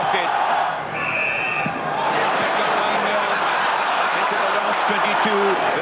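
A large rugby match crowd in a stadium sings Swing Low, Sweet Chariot as a broad, continuous roar of massed voices, loud and steady throughout, with a faint high tone drifting above it.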